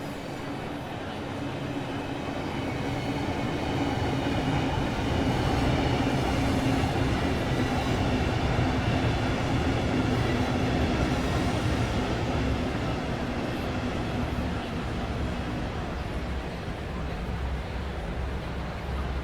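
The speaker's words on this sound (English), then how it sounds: "Your train has arrived." A train pulls in on the Southeastern High Speed Extension in Train Sim World 3, with a steady loud rumble of rolling wheels and a low motor hum that holds for nearly twenty seconds, easing slightly toward the end.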